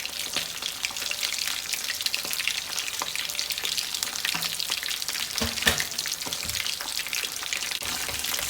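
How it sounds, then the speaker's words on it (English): Fish frying in a pan for a spicy Sri Lankan curry gives a steady, dense sizzle of hot oil that runs the whole time, loud and close, with a couple of brief stirring or turning clatters partway through. "The fish can stick to the bottom of the pan while frying"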